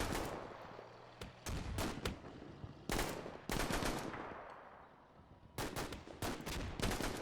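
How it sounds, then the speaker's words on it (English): Machine gun fire in the Combat Mission: Fortress Italy war game rattles out in short, sharp bursts separated by brief pauses, moderately loud with no talk over it. "Really need this machine gun to light up this nest here."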